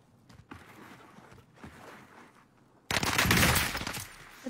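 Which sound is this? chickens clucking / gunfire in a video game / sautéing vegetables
gunfire in a video game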